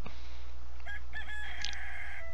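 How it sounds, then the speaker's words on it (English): A rooster crows in the video game Stardew Valley, a single clear, drawn-out cock-a-doodle-doo over a steady background hum. "Cock-a-doodle-doo"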